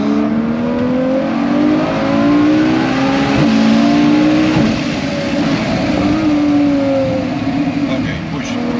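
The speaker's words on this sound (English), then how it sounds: "This is also one of the last Ferraris with a naturally aspirated engine, right?" Close, steady roar of a naturally aspirated Ferrari 812 GTS accelerating through the gears, the engine note sweeping upward repeatedly with brief dips between shifts, loud throughout with faint voices inside the cabin.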